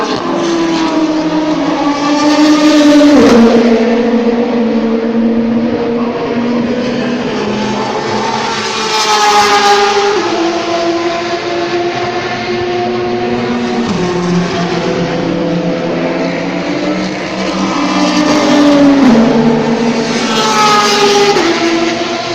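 Race cars at the 2019 Le Mans 24 Hours test day roar past on the circuit in repeated loud swells, engines rising and falling in pitch as each car approaches and fades away.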